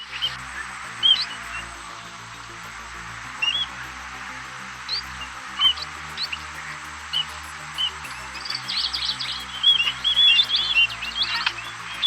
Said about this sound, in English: Chestnut munia is a small, plump, reddish-brown finch with a black head and thick silvery blue bill, often seen in flocks